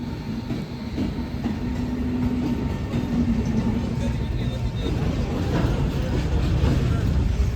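A train passes a railway crossing while vehicles wait, its rumbling roar steady and building toward the end, with a person talking over it.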